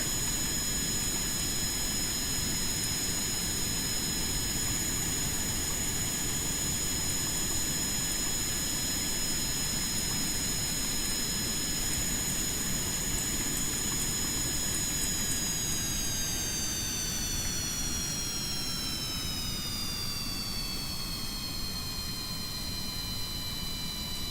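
Jet engine roar from an aircraft taking off in a video game, a steady loud whine with a rising tonal hum that bends downward near the end as the plane climbs, continuous and without speech.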